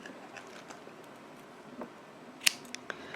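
Crochet yarn is looped, pulled and snipped with scissors, producing one sharp, close cut near the end followed by a couple of faint ticks over a quiet room.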